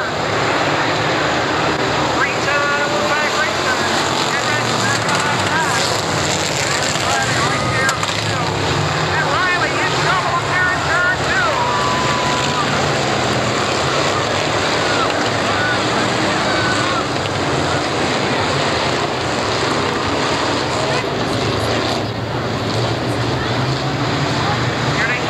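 Street stock race cars in a 25-lap feature at 5 Mile Point Speedway in 1987 produce a loud, continuous engine roar with wind-buffeted distortion, while an announcer talks over the noise.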